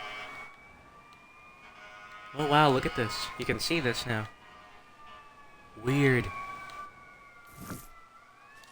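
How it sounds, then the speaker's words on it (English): Faint, steady wailing sirens in the Red Dead Redemption 2 video game, heard while exploring Mexico, with sustained tones in the background under someone talking in short bursts. "I hope you can hear those sirens"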